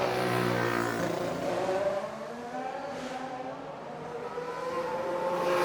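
Race cars cross the finish line at the Devon Grand Prix in Dawlish, their engine tones rising and falling through a continuous loud drone, with no talk over it.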